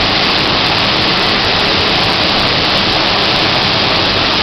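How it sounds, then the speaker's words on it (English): A waterfall at Blue Hole roars as a steady, loud wash of falling water close by, with no other sound standing out. "Here's the waterfall"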